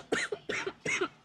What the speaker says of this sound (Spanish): No tienes que toser para que te crean.